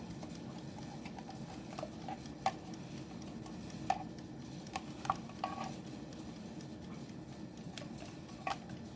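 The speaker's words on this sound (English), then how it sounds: "get your rubber spatula out and get all of that out of the can" A rubber spatula scrapes thick condensed milk from a 14-ounce can for key lime pie filling. It gives faint, irregular scraping and small clicks against the metal can over a low, steady room hum, with no talking.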